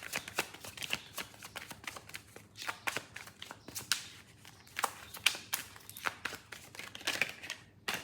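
Tarot cards being shuffled by hand for a full-moon reading, a close run of riffling, flicking card bursts in uneven rhythm with no talking.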